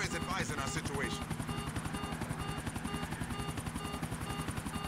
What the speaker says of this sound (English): This helicopter is about to blow up.